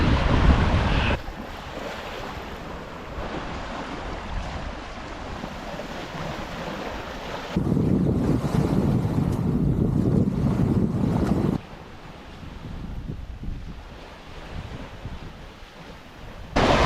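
Ocean waves wash onto a fossil beach where visitors hunt for shark's teeth. The surf is a continuous loud roar, swelling and easing in sections, with heavy wind buffeting and no voices.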